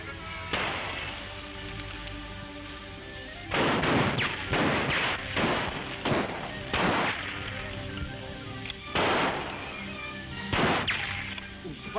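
Gunshots in an old jungle adventure serial, fired irregularly: a single crack, then a tight cluster of several quick shots, followed by a few spaced reports, all fairly close and loud.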